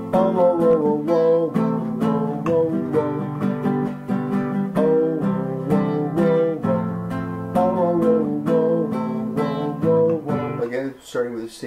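Acoustic guitar strummed quickly through the chords of a song, a steady driving rhythm of bright full chords played close and loud, with a brief hum of voice near the end.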